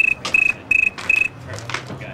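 A man whistles in imitation of a cricket, producing three rapid bursts of high, trilling chirps separated by short pauses, with a steady tone between them, close and clear with no speech.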